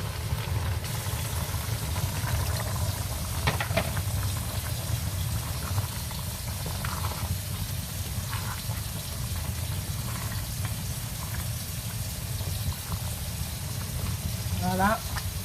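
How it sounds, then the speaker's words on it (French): Water pours steadily into a cooking pot of meat for broth, a continuous splashing fill under a constant low hum of the stove, with faint kitchen clatter throughout. "On va juste rajouter un peu d'eau."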